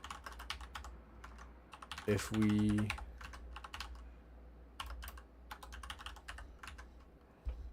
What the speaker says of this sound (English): I'm typing it in there